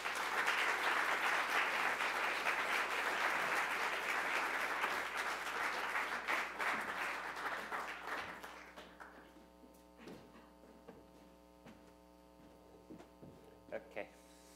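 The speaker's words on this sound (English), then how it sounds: "let's please give a big round of applause for Bob" Audience applause at a literary reading event for author Bob Shacochis, sustained and dense for about eight seconds before thinning into scattered claps and fading, with a steady mains hum underneath.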